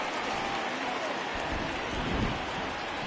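Steady heavy rain pouring down in a baseball video game on PS4, a dense continuous hiss filling the clip, with faint low rumbles underneath and no other clear sounds.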